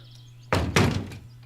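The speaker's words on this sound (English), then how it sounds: "She slammed the door loudly." A door in the video game Everlasting Summer slams hard twice in quick succession, a loud heavy thud followed by a second bang and short rattle, over a low steady background tone.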